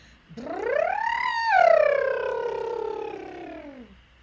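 A single human voice imitates a siren, sliding up to a high wail and then gliding slowly back down in one long, tonal sweep.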